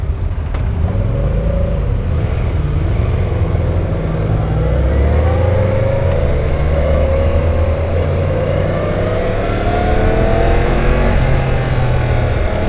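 A 2017 Yamaha FZ-10 motorcycle pulls away and accelerates under light throttle in B mode, its engine droning loud and close with rising pitch, plus heavy wind rush throughout.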